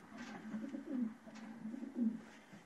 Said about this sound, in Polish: Także super gołąbki.